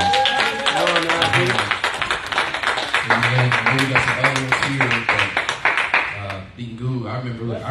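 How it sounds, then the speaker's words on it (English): A church congregation at a Sunday service claps hands in a fast, steady rhythm, loud and close, while a preacher speaks over the clapping. "Come on, clap your hands."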